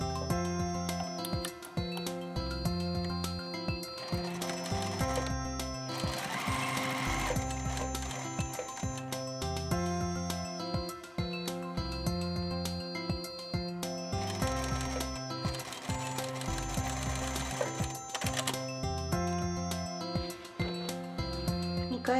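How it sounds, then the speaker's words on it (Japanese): A sewing machine stitches a jacket shoulder seam, right sides together, with a steady rapid mechanical chatter that runs nearly continuously. Music plays loudly over it. "先に 肩を中表で1センチで縫います"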